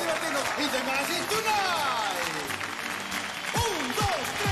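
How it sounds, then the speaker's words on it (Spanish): A studio audience at a Spanish-language television show claps along, a steady roar of applause under loud voices and gliding vocal shouts. "¡Arriba las palmas!"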